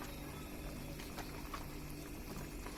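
Vegetable curry of flat beans with eggplant, tomato and torn leaves simmering in a pot, giving a steady close bubbling hiss with small pops throughout, no talking.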